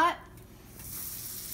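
Hot butter sizzling in a pan: a soft, steady hiss that follows a brief clatter at the start, faint and close with no voices.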